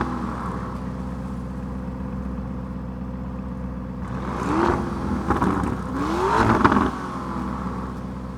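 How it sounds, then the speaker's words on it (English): The twin-turbocharged V8 of a 2019 Lamborghini Urus SUV idles with a steady low throb, swelling briefly twice in the second half before settling back, heard close with no one talking. "just listen to the throb of that twin turbocharged V8"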